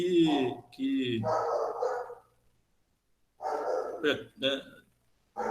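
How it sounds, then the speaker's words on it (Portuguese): A neighbour's dog barks in a residential setting: a few sharp, fairly loud barks in two bursts separated by a quiet gap. "o vizinho aqui tem cachorro, é difícil"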